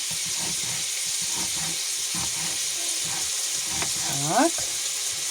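Steady loud sizzle of liver frying in a pan for bograch, with occasional stirring scrapes and a brief voice near the end.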